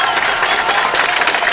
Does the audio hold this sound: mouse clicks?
no